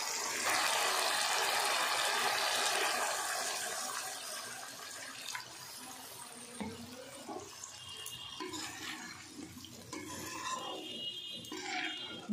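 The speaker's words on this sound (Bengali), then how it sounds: "আর একটু জল দেব।" Water poured into a cooking pan for a soybean bori curry, splashing steadily at first and then thinning into fainter trickles and light clinks of the bowl.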